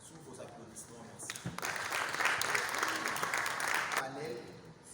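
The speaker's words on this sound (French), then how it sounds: "Sous vos applaudissements, merci." Audience at a young lawyers' forum of the Kinshasa Matete bar applauds, a broad steady clapping that swells after the first second and holds for several seconds before easing off.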